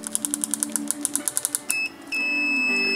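A continuity tester is touched across the numbered pins of a DB25 breakout board, giving a rapid train of short repeated clicks or ticks, then two sustained steady electronic beep tones.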